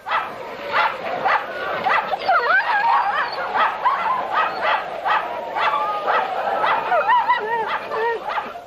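Sled dogs, huskies in an Antarctic expedition setting, bark, yip and whimper in a dense, continuous chorus of overlapping calls close by, with a voice talking underneath.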